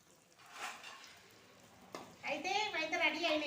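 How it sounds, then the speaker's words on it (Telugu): Bread slices frying in hot oil for double ka meetha, a soft crackling sizzle that starts faint and grows louder and denser in the second half, with a higher, brighter frying hiss near the end. "మంచిగా గట్టిగా కాలిస్తే మంచిగా ఉంటుంది"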